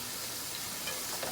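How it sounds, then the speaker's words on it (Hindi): Chicken frying with onions in a hot pan sends up a steady, close sizzle that hisses evenly through the brief moment without pause. "इसके साथ ही प्याज के साथ चिकन भी फ्राई हो जाएगी"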